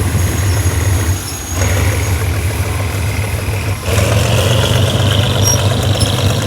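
A GE diesel locomotive with a Cummins KT38 1,320-horsepower engine idles steadily with a deep, throbbing rumble, loud and close, with a brief dip in level before resuming.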